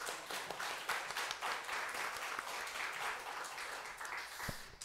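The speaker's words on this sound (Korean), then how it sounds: "존 쿠리안 형제님께 감사의 박수를 이렇게 남겨주시면 감사하겠습니다" A church congregation claps in thanks to a guest preacher after a Sunday afternoon special message, steady close applause filling the whole stretch without talk.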